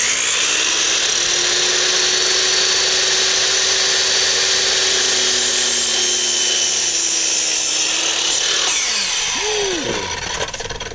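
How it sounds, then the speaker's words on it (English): A miter saw cuts through wood for a raised garden bed: a loud, sustained whining spin with the rasp of the blade through the board, then the motor winds down near the end. "And that's how we use a miter saw."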